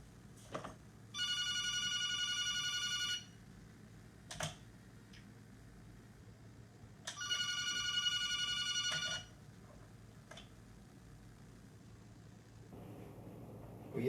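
Telephone ringing in two long electronic bursts of about two seconds each, separated by a pause, with a few faint clicks and taps in a quiet room between rings.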